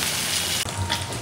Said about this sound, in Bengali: সবগুলো মাছ দিয়ে দিয়েছি একসাথে, ভাজা হতে থাকো একটু